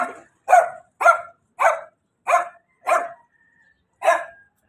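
A dog barks seven times in a steady series, loud and close, with a short pause before the last bark.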